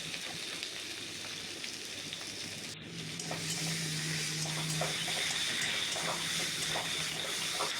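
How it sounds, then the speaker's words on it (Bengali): Eggplant frying in a pan with onion, tomato and green chili for a potato-eggplant fish curry, a steady hiss of sizzling oil with faint scraping as the mix is stirred, close and even throughout. "বেগুনের সাথে পেঁয়াজ টমেটো কাঁচা লঙ্কাটাকে। এভাবেই কিছুক্ষণ নাড়াচাড়া করে নিতে হবে।"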